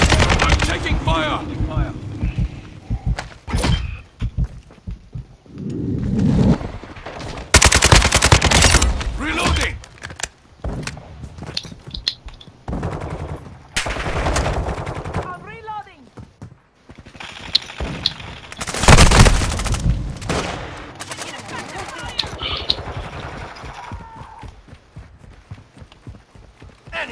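Gunfire in the Modern Warfare 2 video game with a Kastov 762 rifle, loud rapid automatic bursts and single shots in repeated volleys, mixed with explosions and in-game voice callouts.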